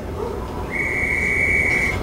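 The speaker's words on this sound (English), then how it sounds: "Before he blows his rape whistle again." A whistle blown in the horror video game Call of Cthulhu, one steady shrill blast held for over a second over a low rumbling game ambience.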